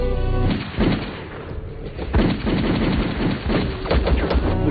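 A loud volley of gunshots rings out in an action film scene, rapid and dense like machine-gun fire, with no voices.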